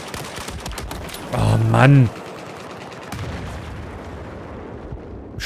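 M16A4 rifle fire in Battlefield 4 multiplayer: a burst of sharp rapid shots and distant gunfire over noisy battle ambience, with a voice briefly exclaiming in between.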